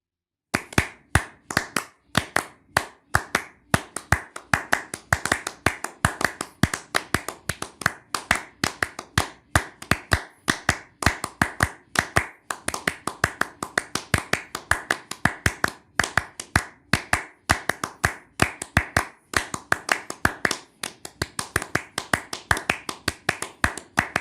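Rhythmic piece performed by two people using only hand clapping and finger snapping, with no pitched instruments; crisp, steady percussive claps and snaps repeat densely at close range for the whole span, without talk.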